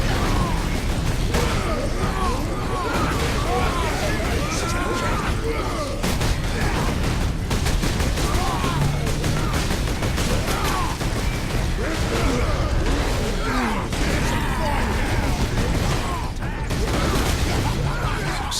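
Gunfire in the Warhammer 40K Space Marine game, a dense, unbroken clatter of shots, impacts and metallic mechanisms with crashing hits throughout, loud and busy, with a voice talking at times over the din.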